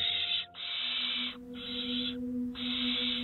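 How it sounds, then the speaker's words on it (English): Tawny owl calling, a steady tonal hoot-like note held through most of the stretch over a continuous hissing background, faint and fairly distant, with no voices. "tawny owls Bomber and Luna are constantly chasing Finn down."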